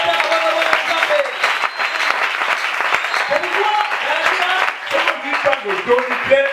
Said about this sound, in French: Alors acclamez pour Dieu, frère.